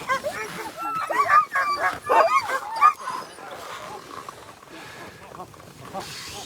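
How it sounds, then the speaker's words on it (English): Sled dogs bark and yip excitedly at the Tolsona Lake checkpoint of the 2022 Copper Basin 300 race, several overlapping bursts that fade after a few seconds, with people talking in the background. "There's the lead dogs."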